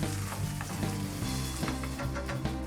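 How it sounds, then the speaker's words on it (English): Onions frying in olive oil in a large pan over the flame, a dense continuous crackling sizzle heard up close with occasional stirring scrapes, no voices. "I put a large pan on the fire and added a bit of olive oil. Next, I toss in my onions,"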